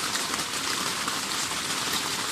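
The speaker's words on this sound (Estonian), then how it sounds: "Praegu hakkas vihma ka sadama." Rain falling outside a riverside sauna makes a steady, even hiss of drops on surfaces, continuous and close, with no talking.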